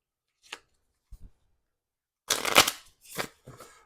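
Playing cards are shuffled close by: a few light taps and flicks, then a crisp riffle followed by a couple of quieter shuffles, with no voices.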